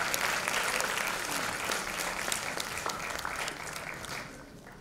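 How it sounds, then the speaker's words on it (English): An awards-ceremony audience applauds for Leena ji at a women's empowerment event, a dense, steady clapping crowd that slowly fades toward the end. "a big round of applause for Leena ji"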